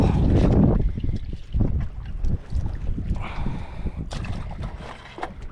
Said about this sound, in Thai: ลมก็โคตรแรงเลยวันนี้